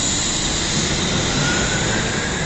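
A Wuppertal suspension railway train speeds away along its hanging track, producing a steady, loud, close roaring rush that holds at full strength throughout, with no talking.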